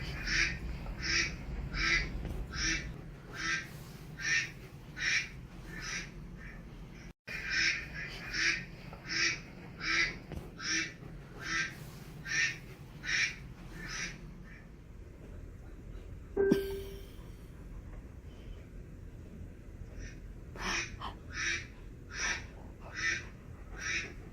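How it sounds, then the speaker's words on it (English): Ducks quack in a steady run of repeated calls, fairly close, pausing briefly partway through before more scattered quacks resume. "I want to get those ducks."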